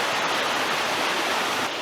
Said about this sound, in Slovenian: No ti šment, še en lep slap je tlele.